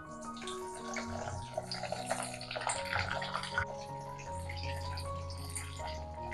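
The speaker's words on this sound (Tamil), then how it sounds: "இப்போ இதை வதக்கிக்கலாம் நம்ம எண்ணெயில்." Brinjal pieces sauté in hot oil in a clay pot, giving a close, steady sizzle and crackle with bursts of spitting, continuous throughout the short stretch.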